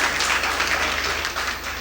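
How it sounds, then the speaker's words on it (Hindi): Loud audience applause in a hall welcoming a guest, a thick, continuous roar of many hands clapping close and steady for the whole stretch. "एक बार जोरदार तालियों से"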